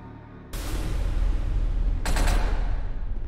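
Rapid gunfire from the video game SCP: Secret Laboratory, a dense burst of close, loud shots starting abruptly and intensifying midway through.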